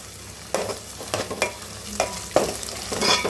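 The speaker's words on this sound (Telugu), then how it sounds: "ఇది కూడా చక్కగా మనకి గోల్డెన్ కలర్లో వచ్చే వరకు ఫ్రై చేసుకుందాము." Ginger-garlic paste and onions fry in a pan while being stirred, a soft sizzle underneath with a few distinct scraping stirs at irregular intervals.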